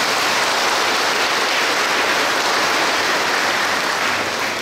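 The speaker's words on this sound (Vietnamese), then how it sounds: "chia sẻ niềm vui với cha tân chính xứ Phêrô bằng một tràng pháo tay nồng nhiệt nhất" A parish congregation at Dong Linh gives a loud, sustained round of applause to welcome its new parish priest at his installation ceremony. The clapping is a dense, hissing roar of many hands, steady from start to finish, with no voices above it.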